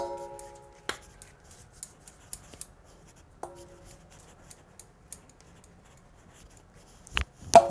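Soft, scattered taps and scrapes of hands cutting portions from a ball of wheat dough for litti, some faint and some sharper, with a louder clatter near the end and no voices.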